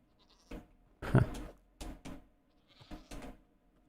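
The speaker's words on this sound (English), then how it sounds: "Goats make weird noises." Goats in the Minecraft video game give several short, strange bleats at irregular intervals, fairly close and moderately loud.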